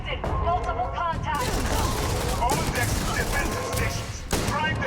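Spaceship fleet weapons firing in Starfield, a dense, continuous barrage of shots and impacts beneath overlapping voices and game chatter.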